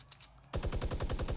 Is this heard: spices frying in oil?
no